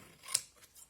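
Scissors make one quick, crisp snip through paper while cutting a scrapbook album cover, a short close cut followed by fainter rustling.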